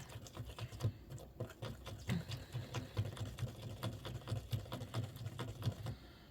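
A miniature toy mixer whirs steadily while beating cupcake batter, a quiet, close buzzing motor with rapid rhythmic pulsing and small rattling taps running throughout.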